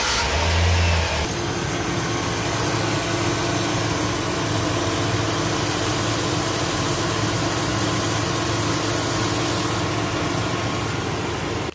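A 2005 Chevy Silverado engine cranks briefly, catches and then runs at a steady idle after an AC belt and tensioner replacement, loud and close with a constant droning hum and no talking.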